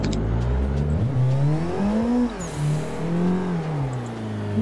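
Simulated car engine in Assetto Corsa easing off the throttle mid-drift, a steady loud drone whose pitch wavers and dips as revs fall and rise, with no talk over it.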